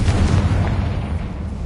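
A Confringo fire spell blasting in Hogwarts Legacy: a loud, dense booming explosion that rumbles steadily for the whole moment, heavy in the low end with a scattered crackle on top, and no talking.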